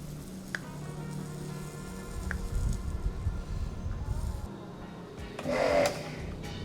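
A Hajime HJ-1100iR-L1 jet cleaner's motor running with a steady, smooth mechanical whir and low hum, moderately close, with a brief louder burst of spray-like hiss near the end.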